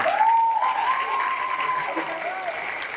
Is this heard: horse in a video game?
no